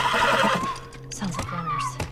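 A horse in The Last of Us whinnies with a rising, wavering neigh, fairly close and loud, mixed with game ambience and a voice speaking over parts of it.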